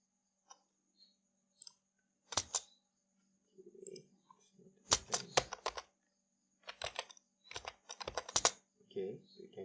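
Computer keyboard typing on a Windows server: scattered clusters of quick, close key clicks with short pauses, ending in firmer presses like an enter key, fairly quiet.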